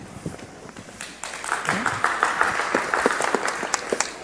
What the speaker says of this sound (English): They just want to clap today.